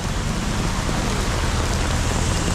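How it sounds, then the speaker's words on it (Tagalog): Heavy rain pours down near a basketball court in Olongapo, a dense, constant roar of water that stays loud and unbroken throughout. "So, sobrang ulan niya."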